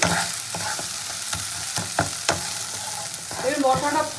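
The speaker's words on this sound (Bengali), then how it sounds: "মশলাটা খুব ভালো করে কষানো হয়ে গেছে, দেখুন কষাতে কষাতে কিন্তু মশলা পুরো আচারের মতন হয়ে গেছে দেখছি" Thick spice paste for Bhola fish kosha stir-fried in a pan, with steady sizzling and irregular scraping strokes of a spatula, a bubbling burst near the end, close and moderately loud with no talking.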